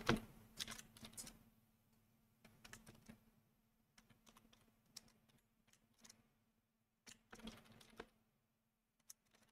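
Rapid keystrokes on a computer keyboard while a command is entered at a Windows PowerShell prompt, coming in quiet irregular bursts with short pauses, close up and alone.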